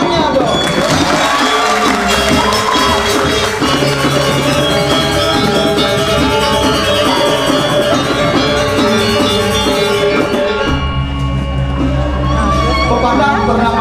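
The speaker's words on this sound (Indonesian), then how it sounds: "tepuk tangannya dong" Loud crowd cheering and whoops at a Balinese drama gong performance, mixed with clapping over continuous gamelan-style music that dominates the mix, with some voices shouting.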